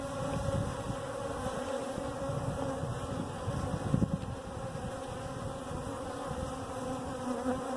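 Dense, continuous buzzing of many honey bees swarming close by at a feeder in winter, a steady droning hum with no other sounds.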